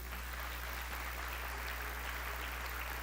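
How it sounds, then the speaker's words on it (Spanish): Applause from an audience at a question-and-answer session, a soft, steady wash of many hands heard from a distance over a low electrical hum, continuing without a break. "Pido que demos un aplauso a Wilder y a Benjamín"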